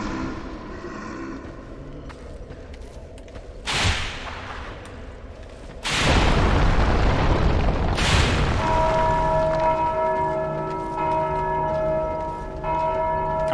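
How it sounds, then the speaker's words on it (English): Bell rung by a whip strike in the Dark Souls 2 video game, a loud booming clang that rings out and slowly decays with a long sustained tonal hum, preceded by a couple of sharp impact cracks. "Also, I think my whip rang the bell."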